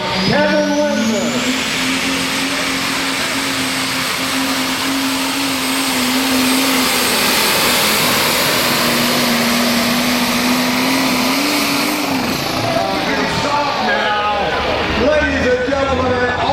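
A New Holland pulling tractor roars at full throttle through a long pull, a loud, steady, high-pitched engine drone holding for many seconds before the pitch wavers and fades, with crowd and announcer voices in the background.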